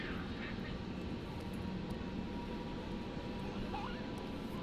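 An airplane approaches Zurich Airport with a low, steady engine rumble and a broad roar that stays even throughout at a moderate distance, with faint voices in the background.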